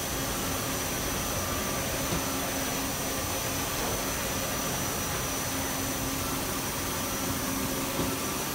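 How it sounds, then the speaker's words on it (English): A Daewoo Puma 2500LM CNC turn mill center runs a short program, giving a steady, even whirring hum of motors and air noise at moderate level, unbroken and without talk. "Right now we're running the machine through a small program just to see, you know, so you can see the machine in action."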